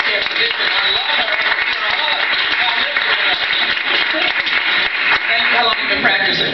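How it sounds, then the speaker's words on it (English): Town hall audience applauding a primary care physician, dense steady clapping filling the room from start to finish at full volume, with no talk over it. "we should give her an applause"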